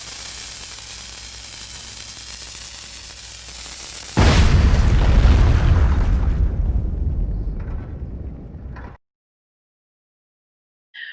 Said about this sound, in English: we just had an exploding TNT barrel